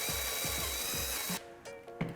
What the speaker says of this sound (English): once you get your drill bit lined up in the center, you're gonna make your hole and push